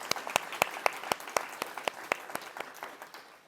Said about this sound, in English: I think we all owe her and the other leaders a big round of applause